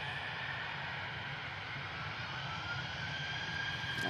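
An EasyJet airliner taking off at Manchester Airport, a steady broad jet roar held at moderate, even loudness throughout, heard alone with no voices.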